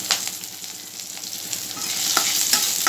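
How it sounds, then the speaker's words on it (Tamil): Onions sizzle and crackle in a hot pan with ginger garlic paste for prawn masala, close and steady, with scraping stirs breaking through the frying hiss. "பாருங்க, வெங்காயம் உடனே வதங்கிருச்சு"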